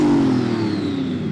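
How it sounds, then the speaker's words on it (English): A tuned car engine at a drag race revs loudly close by during a sound check, a sustained roar whose pitch slides gradually downward as the revs fall. "let's do a sound check. So Ricky, can you rev up your car?"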